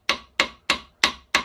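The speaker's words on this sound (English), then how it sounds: "but I have to hammer it." Five sharp metallic hammer strikes on a guitar nail being planished, evenly spaced about a third of a second apart, each ringing briefly before the next, close and alone.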